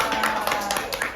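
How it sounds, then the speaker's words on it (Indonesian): Children give a brief burst of clapping for Kanaya during a storytelling session, with quick claps and lively voices over a second or so. "tepuk tangan dulu buat Kanaya"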